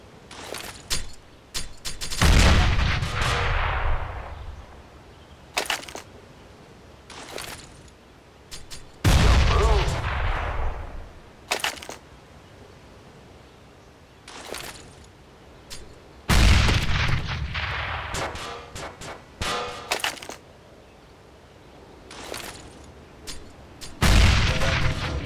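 Grenade explosions in the first-person shooter Counter-Strike: Global Offensive, about five loud, sharp blasts spaced several seconds apart, each trailing off into a rumbling tail, with quieter pops and clatter between them.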